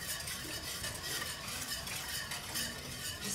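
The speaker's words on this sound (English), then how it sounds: "Just whisk it in." A whisk stirs poultry seasoning of sage and thyme into a mixture in a bowl, giving a continuous soft scraping and swishing, fairly quiet and steady, with no talking.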